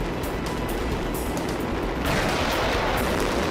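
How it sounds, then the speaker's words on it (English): Waves of low and medium fireworks burst off a bridge in a dense, continuous crackle of overlapping pops and booms. The sound is loud and sustained, swells slightly toward the end, and has no voices. "the bridge will literally burst into flames as wave after wave of low and medium fireworks are set off"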